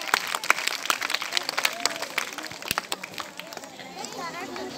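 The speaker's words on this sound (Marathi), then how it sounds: "तर टाळ्या वाजवायच्या त्याच्यासाठी" Applause from a school audience at a Shahu Maharaj birth anniversary event, scattered and uneven clapping mixed with children's chatter and shuffling, with voices talking over the noise.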